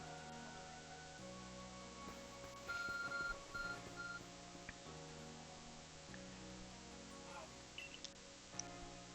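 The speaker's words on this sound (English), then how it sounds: "Beeping phone." Electronic beeps from a phone's navigation in Pokemon Legends: Arceus, a few short steady tones over a quiet in-game ambience and music bed.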